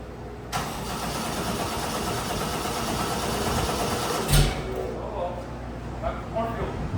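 An engine cranks and catches after a fuel leak repair, then keeps running with a loud, steady rumble for several seconds. Brief voices are heard over it toward the end.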